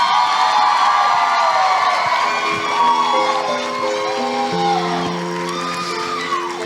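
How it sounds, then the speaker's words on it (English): Cheering and whooping crowd at a beauty pageant finals for contestants, loud shouts and high cheers blending with clapping, while music with sustained tones rises beneath the noise. "let's give another round of applause for our Miss Utah for America Strong contestants"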